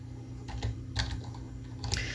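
Quick, light clicking of keys on a computer keyboard, a few short bursts of typing heard close and fairly quiet.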